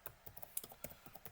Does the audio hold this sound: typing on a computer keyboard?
yes